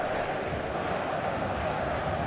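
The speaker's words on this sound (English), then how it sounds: "The stadium is full of noise and energy." A full stadium crowd in eFootball on match day, a steady, dense roar of many voices that stays constant throughout with no breaks.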